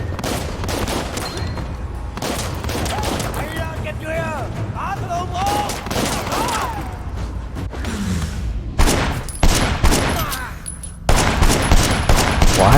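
Gunfire in Sleeping Dogs Definitive Edition comes as rapid volleys of sharp reports that grow denser and louder toward the end. A voice talks over the earlier shots.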